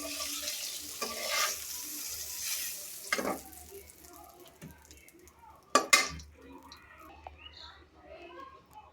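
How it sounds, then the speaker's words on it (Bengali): Onions and green chillies are tossed into oil left from frying rohu fish. A bright sizzle rises, then settles into a softer fry, broken by loud clatters of a pan and utensil and faint voices. "এখন এই তেলের মধ্যে হলো আমি পেঁয়াজ কষি আর হলো কাঁচামরিচ কষে দিয়ে দিতেছি"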